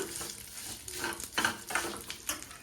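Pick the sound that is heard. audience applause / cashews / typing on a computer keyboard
cashews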